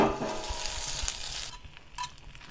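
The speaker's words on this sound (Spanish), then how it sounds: "aquí tengo un cazuelo, no, que voy a poner a darles una doradita" Sliced chilies browning in a clay pot for red enchiladas, a steady close sizzle that fades somewhat after the first second and a half, with faint stirring clicks and no talking.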